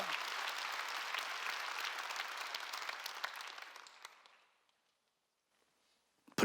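A church congregation applauds during a sermon, a brisk full round of clapping that thins and fades out after about four seconds, leaving near silence before a brief sharp sound at the very end.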